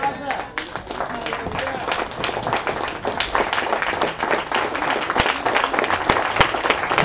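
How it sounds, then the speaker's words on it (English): Applause from a congregation at a Hebrew religious convocation, many hands clapping steadily and densely for a speaker, with voices calling out over the clapping. "Give a brother another round of applause"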